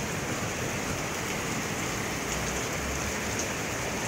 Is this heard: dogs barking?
no